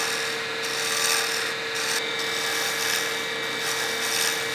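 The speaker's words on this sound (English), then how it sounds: "As I cut through the waste material, those corners on this end, I want to ease those off." Woodturning tool cutting the corners off a pen blank spinning on a lathe, a constant loud rasping hiss with a steady motor whine and slight pulsing as the cut eases in and out.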